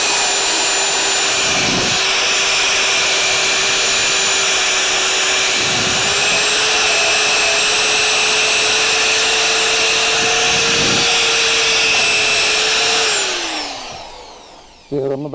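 A worn wire wheel on a power tool spins at steady speed with a loud, continuous whine for about thirteen seconds, then winds down near the end.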